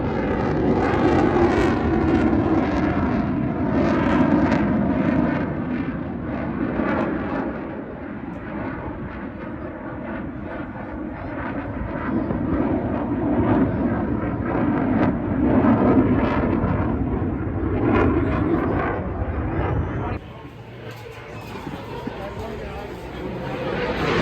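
An F-18 jet at an air show roars loudly and steadily for about twenty seconds, a broad rumbling engine noise with crowd babble beneath, then drops away abruptly near the end.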